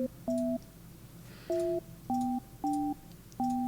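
Telephone keypad tones dial out to Trump Towers: five short, clear two-tone beeps in an uneven rhythm, close and distinct over quiet line hiss.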